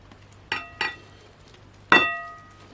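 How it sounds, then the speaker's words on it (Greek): Dough ingredients of flour, dry yeast and salt being stirred in a bowl for a cheese bread, heard as three sharp clinks of a utensil against the bowl, two close together and one later, in a quiet room. "Ανακατεύουμε λίγο."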